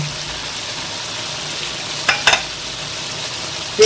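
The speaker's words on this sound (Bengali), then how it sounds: "ভালো করে কষিয়ে নেব।" Tomatoes with chopped cinnamon, cloves and cardamom sautéing for chicken curry, a steady close hiss of frying broken by a couple of brief scraping stirs near the middle and a clink at the end.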